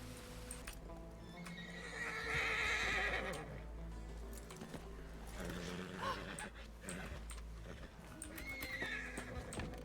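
Horse neighing and whinnying with clip-clopping hooves in the Red Dead Redemption (RedM) roleplay game, set in a stable aisle, loud and steady over a low rumbling background with faint game noise throughout.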